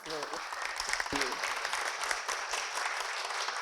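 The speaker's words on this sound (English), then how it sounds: "So please give Stephanie a round of applause." Applause for Stephanie at a Women's Sports Foundation event at Hawken School, a steady wash of clapping from a crowd with a voice and some sharp close claps briefly audible near the start.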